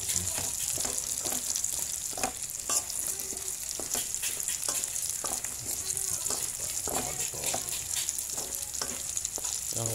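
Salagubang beetles fry in hot oil with a steady, dense sizzle, crackling and spattering throughout, while occasional stirring clatters sound close by.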